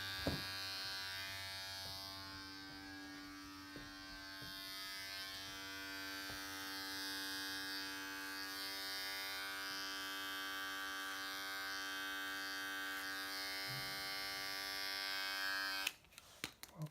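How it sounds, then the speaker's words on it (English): Electric hair clippers buzz steadily and close up while trimming a beard clipper-over-comb on the side area, holding a constant drone for most of the span before clicking off near the end. "And then just a little clip over comb here on the side area."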